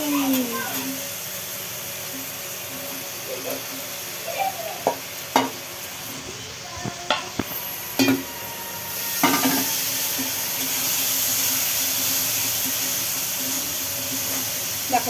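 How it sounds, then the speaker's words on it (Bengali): Crabs sizzle in hot oil for a crab curry, a steady close frying hiss broken by sharp clinks and scrapes of stirring, with a voice talking over it. "তো দেখতেই পাচ্ছ তেল ছেড়ে দিয়েছে এবার মোটামুটি। এবার কাঁকড়াগুলো এখানে অ্যাড করবো।"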